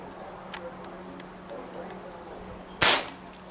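Crosman Classic pump air rifle with a stainless steel extended barrel, pumped ten times, fires a single sharp, loud crack near the end, preceded by faint ticks and handling clicks over a quiet room hum.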